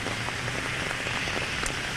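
Steady rain falling during an evening street rally in Minneapolis, a dense continuous patter of drops on surfaces with no voices over it.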